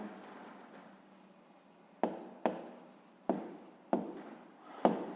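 Pen on paper during a sixth-grade maths exercise: a quiet stretch, then five brisk scratchy writing strokes in a row, close and soft.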